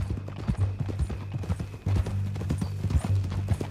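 In Red Dead Redemption 2, horse hooves clip-clop in a steady walking rhythm, close and distinct, with a low rumble and a faint background hum.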